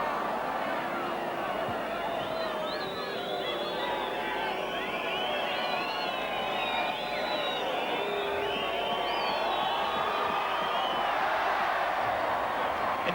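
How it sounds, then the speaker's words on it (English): A large stadium crowd at a 1980 Great Britain versus New Zealand rugby league test match roars in a sustained, distant-sounding wash of cheering and whistles, with a commentator talking over it. "I thought it was a great big cheer"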